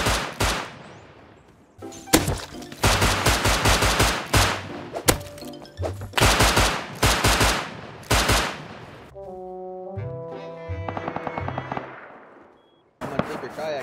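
Automatic gunfire in the video game Rust: long rapid bursts of loud shots with brief gaps between them, then a short stretch of clanking impacts before firing resumes.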